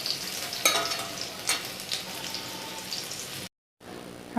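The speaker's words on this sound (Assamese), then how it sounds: "ৰংচোৱা হোৱালৈকে ভাজি দিম আলুখিনি" Potatoes frying in a pan, a steady close sizzle with a few louder spits and stirring scrapes, briefly cutting out near the end before resuming.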